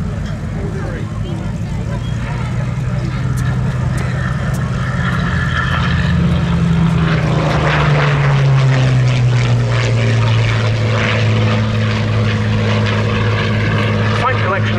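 Curtiss P-40F Warhawk fighter plane marked as an Italian-theatre 85th Fighter Squadron aircraft flying past at the Duxford Battle of Britain air show, its piston engine droning steadily and shifting in pitch as it passes, with a commentator talking over it.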